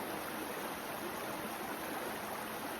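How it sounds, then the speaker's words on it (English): A river flows beneath a bridge on a rough countryside walk, giving a steady, even rush of water that fills the whole moment at constant loudness with no breaks. "Just having a quick stand on the bridge up and down the river."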